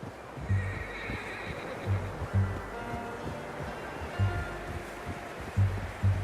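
A horse in the video game Red Dead Redemption 2 whinnies in repeated short bursts over the steady clip-clop of hooves, up close and with no talk.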